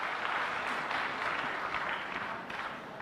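Loud, sustained applause from an audience welcoming the panelists of an SSB mentors' event, a dense, even wash of clapping lasting the whole moment without speech.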